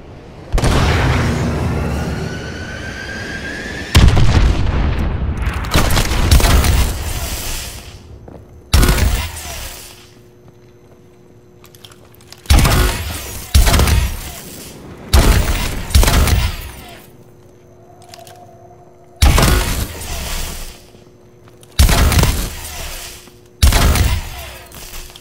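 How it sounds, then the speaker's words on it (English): Repeated heavy missile-strike explosions in the video game Call of Duty: Advanced Warfare, Exo Survival mode: about eight loud booming blasts arriving in irregular bursts, each with a rumbling tail, separated by short quieter gaps. "Friendly missile strikes incoming."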